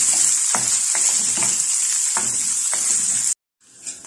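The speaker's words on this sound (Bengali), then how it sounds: "এখন এটা আমি ভালো করে ভেজে নিচ্ছি" Garlic, green chillies and onion hiss and sizzle loudly in a hot pan for a creamy white sauce pasta, with soft scraping knocks from stirring. The frying cuts off abruptly near the end, leaving near silence and a faint clink.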